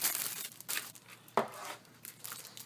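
Cardboard and plastic packaging from a keyboard box being handled and crumpled, a series of close, quiet crinkling and rustling bursts with brief pauses between them.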